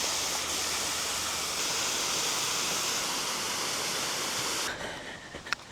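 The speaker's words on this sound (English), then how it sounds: "I can get a pretty good look at the waterfall from here." Waterfall at Cowley County State Lake, a steady, loud, broadband rush of falling water that fills most of the clip before abruptly dropping to a softer, more distant wash near the end.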